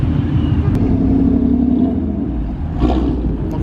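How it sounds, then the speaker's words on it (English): A Camaro and a Mustang race at a car meet, heard as a steady loud engine rumble with a rising rev and a faint clatter, without clear individual passes. "Looks like the Camaro's running the Mustang"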